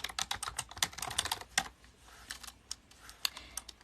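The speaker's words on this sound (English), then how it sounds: "It's going to take me a while to get into typing." Fast, uneven clatter of keys on a computer keyboard, close and fairly quiet, with bursts of rapid strokes and short pauses in a quiet room.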